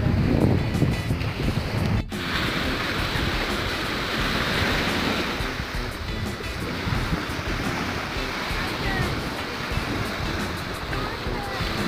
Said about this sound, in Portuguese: Boa praia.